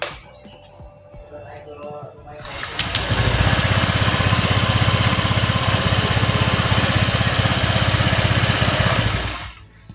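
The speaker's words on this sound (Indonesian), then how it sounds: "Nah itu ya guys ya, di knalpotnya si Fatih ini bocor" A Honda Vario scooter with a leaking exhaust. After a quieter opening with a voice, the engine catches and runs loud and close, a raspy, buzzy idle with a sputtering exhaust note that holds steady before cutting off at the end.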